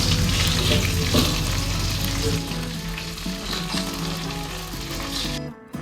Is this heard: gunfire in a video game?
no